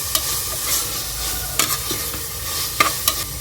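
A spoon stirs mint and coriander leaves into onion masala frying in a pan for goat intestine curry, with a steady sizzle broken by sharp clacks and scrapes against the pan.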